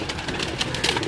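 Sialkoti pigeons in a rooftop loft make soft, throaty coos amid fluttering and rustling, close by and continuous.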